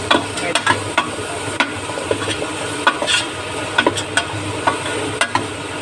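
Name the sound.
sautéing carrots, potatoes and garlic for chicken curry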